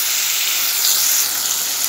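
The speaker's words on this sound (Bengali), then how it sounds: "এই যে একটু ভাজা ভাজা হয়ে গেছে" Ground cumin, coriander, chili and garlic pastes with turmeric sizzle and fry in hot oil for a chicken curry, a steady, even hiss close by with no pauses and no talking.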